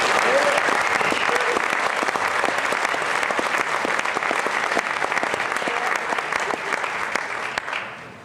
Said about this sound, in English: Let's hear it for those volunteers.